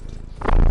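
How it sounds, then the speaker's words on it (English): A pet cat curled on a lap in the game Horizon Forbidden West purrs loudly, a brief low rumble that swells and grows louder in its second half, with no talking. "He's doing the loud purrs."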